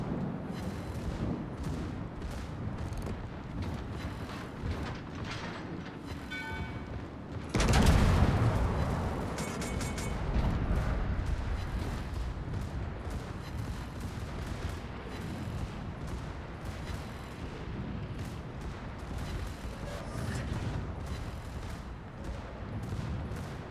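Secondary guns blast in a World of Warships naval battle, a heavy boom standing out among continuous rapid gunfire and explosions, loud and dense throughout.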